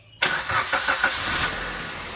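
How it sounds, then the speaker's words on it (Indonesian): A car engine cranks and fires up abruptly, then settles into a steady running rumble, loud and close. "Coba kita nyalakan untuk suara mesinnya."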